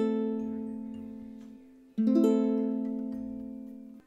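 A minor chord strummed twice on a ukulele, each strum ringing out clearly and slowly decaying, quiet and close with no voice.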